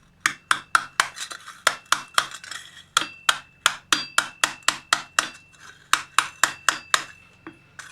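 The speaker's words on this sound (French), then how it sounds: "il suffit tout simplement avec le marteau de venir frapper comme ça autour" A hammer strikes forged steel egg tongs on an anvil, about twenty sharp, ringing metallic blows in a quick, steady rhythm with brief pauses, close and loud.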